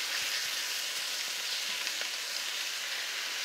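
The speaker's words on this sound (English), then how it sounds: "But we're doing it in a big frying pan." Holy basil stir-fry with chicken sizzling steadily in a big frying pan instead of a wok, a dense continuous hiss with faint scattered crackles, close and alone.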